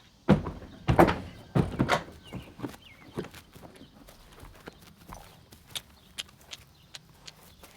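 A horse's hooves thud and clop on a hollow trailer floor while it is loaded, with several loud stamps at first, then lighter, irregular steps fading to scattered knocks.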